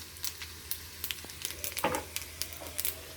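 Cumin and mustard seeds sizzling in hot oil, a quiet crackle of scattered pops and spits close by, irregular and faint, no talk.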